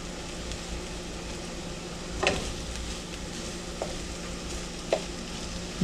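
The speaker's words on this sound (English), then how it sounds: "Now you can cook your scrambled eggs however dry you want." Scrambled eggs cook in a pan with a steady, close sizzle. A few sharp scrapes of stirring stand out above the frying.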